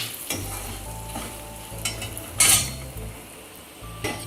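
Spices sizzling in hot oil on a very low flame for a temple-style puliyogare tempering, a steady crackle, while a spoon stirs and clinks against the pan now and then.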